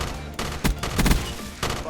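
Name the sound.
M16 assault rifle firing in video game Black Ops 3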